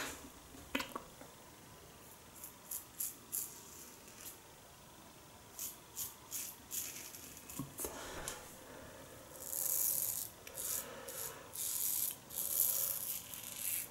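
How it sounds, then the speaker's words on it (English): Edwin Jagger DE89L safety razor shaving off sideburns through Limes shaving cream, short close scraping strokes in bursts, with longer, louder rasping passes toward the end. "Taking them sideburns off."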